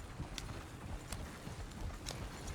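Horse hooves clip-clopping in Red Dead Redemption 2, a steady walking rhythm of muffled thuds over a constant outdoor background.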